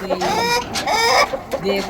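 Chickens fed in a yard, among them Orpingtons and blue and black Australorps with a rooster, cluck loudly and closely in quick overlapping calls, several drawn-out squawks rising and falling in succession.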